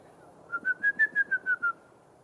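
A forest bird in Sulawesi, a woodpecker, gives a clear run of about eight whistled notes that rise and then fall in pitch. The notes are evenly spaced, sound fairly close and stand alone over quiet background.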